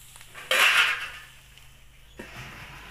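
A metal lid clanks down onto a pan of pevga, a monsoon wild vegetable from Malvan in Konkan, cooking with coconut. One sharp, close clatter rings briefly, followed by a softer knock a moment later.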